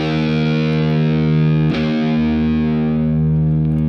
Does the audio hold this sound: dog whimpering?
no